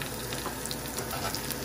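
Breakfast potatoes, home fries, cooking in an air fryer, giving a continuous close hiss and sizzle with a steady fan-like roar throughout.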